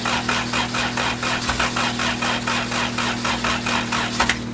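A freshly built LS VTEC engine in a Honda Civic EG hatch cranks and catches on first start, giving a steady, loud, rapid mechanical pulsing with a constant hum underneath, with no throttle cable hooked up.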